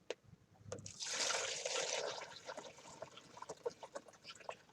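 Top liquid layer poured off a kitchen chemistry mixture, leaving a white layer behind: a quiet splashing pour for about a second, then a run of small drips and trickles.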